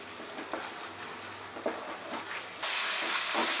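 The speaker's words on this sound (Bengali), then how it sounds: "মাঝারি আঁচে আমি এবারে মশলাটাকে কষিয়ে নেব যতক্ষণ না মশলা থেকে তেল বেরোচ্ছে।" Spice paste for a rui fish curry cooks over medium heat, a soft sizzle with a few spatula scrapes, then a louder, hissing burst of frying near the end.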